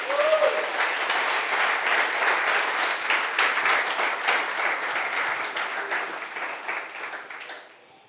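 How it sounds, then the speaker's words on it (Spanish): A church congregation breaks into sustained applause for the Lord during a Spanish-language sermon, loud and steady throughout before tapering off at the end. "Vamos a darle un aplauso al Señor"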